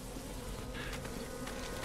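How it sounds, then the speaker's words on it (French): The fly-man enemy in the Resident Evil 6 video game gives off a steady insect-like buzz that holds evenly throughout, with no talk over it. "il y a un homme mouche là je crois"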